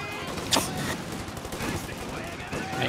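Machine guns and rifles rattle in Company of Heroes 2 battle gameplay, a steady dense fusillade with one sharper burst, heard at moderate volume throughout.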